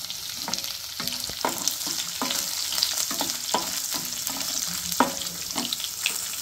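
Green chillies and cashews frying in oil for coconut rice, a bright sizzle broken by rhythmic scraping strokes of a spoon stirring the pan, close and without talk.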